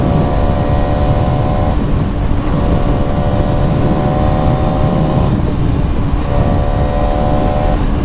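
Bajaj Pulsar NS200 motorcycle engine under hard acceleration while riding, a loud continuous drone with rising gear pulls and wind rush, no talk.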